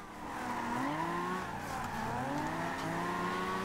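A 1969 Nissan Fairlady Z drifting in Forza Horizon 2, with a sustained engine note that climbs and dips as it revs, under a faint hiss of tyre noise, fairly quiet throughout.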